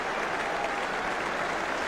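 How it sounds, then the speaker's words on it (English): Fremantle Dockers supporters applaud at a 1999 AFL match against Geelong, a steady wash of crowd clapping that fills the stadium for a couple of seconds. "generous applause from the Docker fans"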